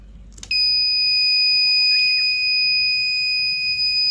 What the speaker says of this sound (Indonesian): alarmnya akan aktif dan dia tidak akan mati sebelum kita tutup kembali